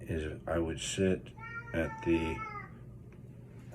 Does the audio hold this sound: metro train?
no